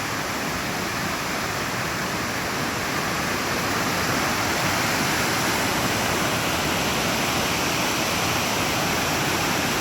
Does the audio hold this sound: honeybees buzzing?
no